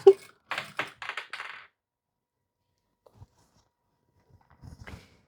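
A sewing machine stitches a zipper seam into a lined muslin dress. It runs in three or four quick, close bursts, then falls quiet, with faint taps and handling noises near the end.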